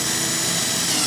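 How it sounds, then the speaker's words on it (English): Power drill boring a hole through a plastic tub for a flood-and-drain plant nursery, a steady close whirring grind without pause. "when I drill the hole, I will be able to screw this right in"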